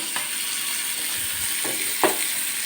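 Food frying in a pan on a home stove, a steady close sizzle with a few sharp stirring scrapes and clinks against the pan.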